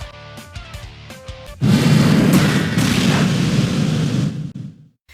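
A loud booming blast from a Sacred Fire attack in a Pokemon animation, rumbling on for about three seconds after a few short sounds at the start, then fading out.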